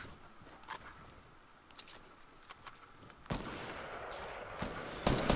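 Gunfire in the Fortnite video game, a few sharp shots scattered through the clip, growing louder and closer toward the end with a burst of reports over a busy game background.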